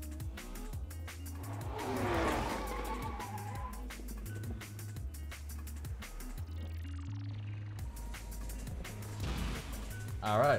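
A McLaren F1 in the video game The Crew revs and accelerates, its engine note rising and dropping through gear shifts with bursts of tire squeal, heard under a man's speech.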